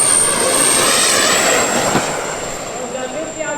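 A propeller airplane comes in to land at an airshow, its steady engine drone loud and close throughout, fading slightly toward the end as it passes.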